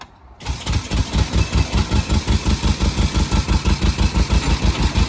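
A 1903 veteran car engine fires up after a short quiet moment, then settles into a loud, steady, rhythmic chugging idle with evenly spaced pulses, up close and with no talking.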